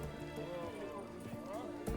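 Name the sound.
horse neighing and hooves in Witcher 3 video game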